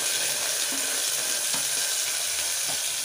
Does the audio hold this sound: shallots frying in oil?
yes